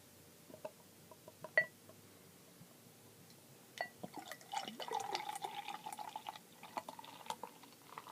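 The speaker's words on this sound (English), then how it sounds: "I poured it kind of aggressively because I want the head." Samuel Adams Fat Jack beer is poured aggressively into a glass after a few faint clinks, giving a soft, bubbling, liquid gush for several seconds, fairly quiet and close.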